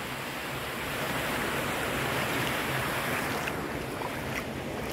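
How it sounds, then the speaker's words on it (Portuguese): Turbulent water churns steadily at a reservoir lagoon, a broad continuous rushing wash with outdoor wind noise and no voices. "Olha lá, a turbulência de água dessa ali, ó."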